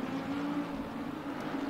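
Race car engine in Assetto Corsa Competizione, dropping down to first gear for a tight hairpin, holds a steady, loud, buzzing drone with slight pitch wobble throughout, close up and without voices.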